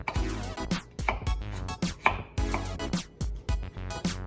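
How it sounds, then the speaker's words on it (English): Sharp, regular knife chops on a cutting board, cutting potatoes into batons for french fries, about a dozen strokes in quick succession, close up and with no voices. "we just go ahead and make our batons"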